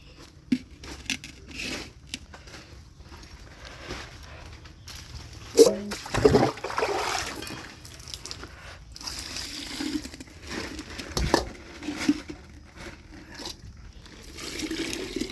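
About five litres of water poured over pounded neem seeds to soak them, heard as an irregular, fairly quiet splashing trickle with louder bursts partway through.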